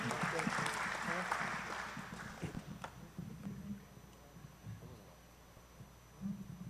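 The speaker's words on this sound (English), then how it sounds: "Can we have another round of applause for all these men and women that make Fort Bend County work?" An audience at a Fort Bend County Precinct 3 listening tour gives a round of applause for department heads, a brief burst of clapping that fades within a few seconds, followed by someone speaking.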